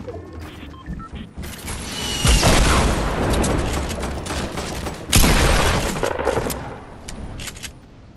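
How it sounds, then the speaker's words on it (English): Fortnite gunfire, dense rapid bursts and crashing impacts filling the clip, with two sharp loud blasts standing out, all fairly close and continuous. "Somebody was shooting at me, but I don't know who"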